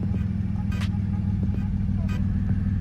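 A BMW E60 six-speed with straight pipes idles in a deep, throaty, steady rumble close by, while someone talks over it and a few sharp clicks and knocks sound in the background.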